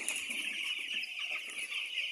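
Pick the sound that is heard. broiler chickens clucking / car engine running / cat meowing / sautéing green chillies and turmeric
broiler chickens clucking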